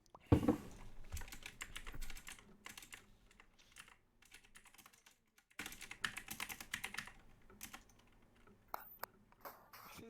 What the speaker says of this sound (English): now everybody's typing